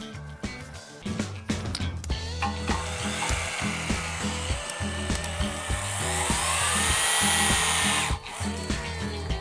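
A torque wrench gun tightening a steel bolt, giving a loud, continuous mechanical whirring with rapid rhythmic impacts and a rising pitch, close up and without talk.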